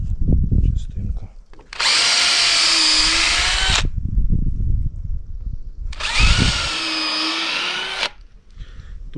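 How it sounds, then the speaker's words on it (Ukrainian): Power drill pre-drilling pilot holes into wood on an aerated-concrete block wall build, two loud sustained whirring bursts of about two seconds each, with quieter pauses between. "Грузне в дерево і зламається, тому обов'язково треба насверлювати"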